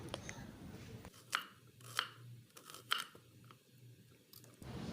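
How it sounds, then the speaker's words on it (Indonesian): An onion sliced into rings with a knife on a board, three or four sharp, crisp cuts spaced about a second apart, close and clear with no talking. "aku menggunakan 1 buah bawang bombay, kemudian diiris bulat-bulat seperti ini"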